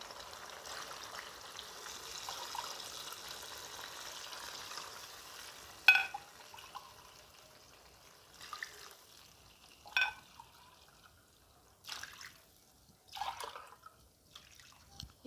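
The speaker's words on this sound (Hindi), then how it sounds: "ये पानी मैंने शामिल कर दिया है।" Water poured into a pot of frying chicken for kabsa rice, a steady low pour and sizzle followed by scattered clinks and splashes of stirring.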